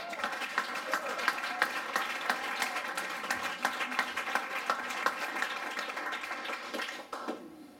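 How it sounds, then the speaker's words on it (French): Audience applause at a live spoken-word stage show, a room full of dense clapping with scattered sharper claps, steady for about seven seconds before tapering off at the end. "j'aimerais ça qu'on donne une petite main d'applaudissement à Sylvain."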